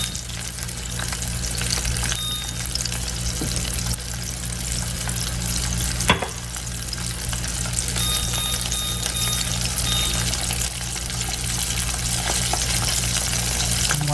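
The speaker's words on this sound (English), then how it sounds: "Coat it again and fry." Chicken sizzles and crackles steadily in hot oil, a continuous loud frying hiss with a single clunk partway through.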